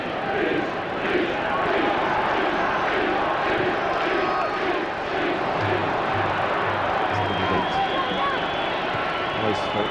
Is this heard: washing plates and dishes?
no